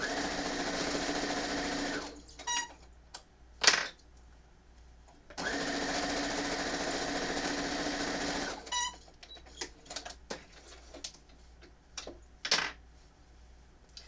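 A sewing machine runs in two long steady bursts stitching a quarter-inch seam on quilt kit pieces, with brief clicks and handling sounds between runs, close and alone.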